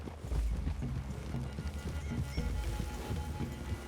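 Horses walking in the video game Red Dead Redemption 2, irregular clip-clop hoofbeats with a possible faint snort over a low outdoor rumble in a forest clearing, fairly close and without speech.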